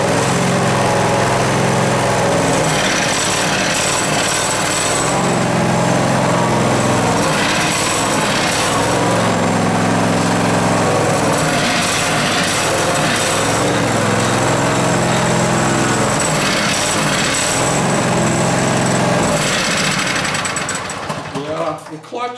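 A 12.5 hp Vanguard engine on a machine with a hydrostatic transmission runs with a steady, loud mechanical drone throughout while people talk over it, then it cuts off at the end.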